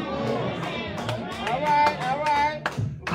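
Church congregation clapping during a worship service, a few scattered claps from several people over about three seconds, mixed with voices and speech.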